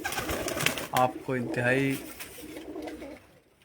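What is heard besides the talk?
Malik Amir Langre Khel's flying pigeons cooing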